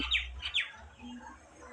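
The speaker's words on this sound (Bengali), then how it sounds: "ওই আর একটা শালিক পাখি দেখুন" Two quick, bright chirping calls from a common myna ring out nearby, followed by quieter ambient noise.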